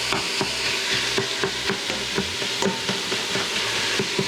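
Italian sausage and onions sizzling and being stirred in an Instant Pot, a steady frying hiss broken by regular scraping strokes of the spoon at close range, with no talking.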